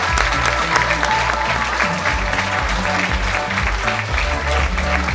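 Audience clapping steadily at a charity fashion show in a shop in Agen, a dense, continuous burst of applause with crowd murmur and some voices mixed in.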